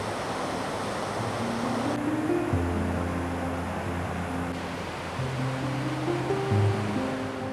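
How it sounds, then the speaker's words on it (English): Small waterfalls in Scotland, swollen after heavy rain, pour into a river with a steady, full rushing hiss throughout, while soft music plays over the water. "you'll find lots of little waterfalls pouring into the river"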